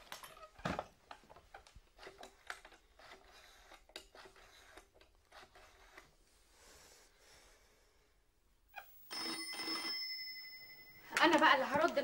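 A telephone rings with a bright, sustained bell tone after scattered clicks and rustles, then a louder burst of ringing at the end, amid voices and breathing.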